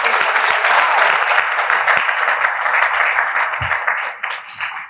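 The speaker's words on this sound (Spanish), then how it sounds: "Los invitamos a dar el aplauso de aprobación." Applause of approval from an assembly in a conference hall, a broad sustained wash of many hands clapping loudly before thinning and fading toward the end.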